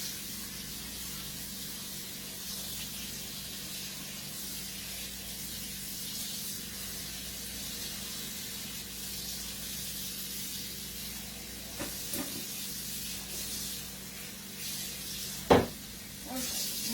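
Cold water running into a pot of potatoes makes a steady, rushing hiss that goes on without a break, with a couple of faint knocks near the end.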